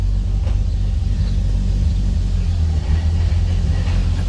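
A slightly cold car shudders with clutch chatter at low RPM, making a deep, continuous rumbling judder that sits close and fairly loud, with no speech.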